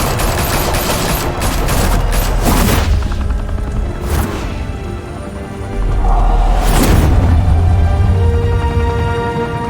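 Gunfire from the Telltale Batman game in Gotham: dense bursts of shots with booming impacts across the scene. The volley grows louder and heavier in the second half, continuous and close, with no talking.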